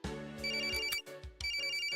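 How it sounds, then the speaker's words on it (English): Electronic phone ringtone from the Apollo Justice: Ace Attorney video game, sounding in repeated bright melodic bursts with short gaps between them, fairly clear and with no talking over it. "It is a goddamn phone."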